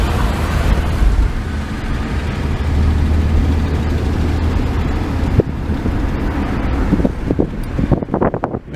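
A 1969 Dodge Dart with a leaking exhaust manifold driving in Montreal, heard from inside the car as a loud, steady low engine and exhaust rumble with road and wind noise, a few sharp knocks near the end.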